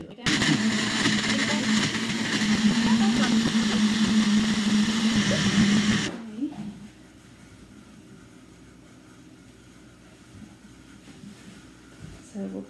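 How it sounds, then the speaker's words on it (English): A Magic Bullet blender whirs loudly for about six seconds, blending an ice cream milkshake with a harsh steady motor roar, then cuts off to quiet room sound. "we are going to use our magic blender. I'm sorry, our magic bullet to blend this."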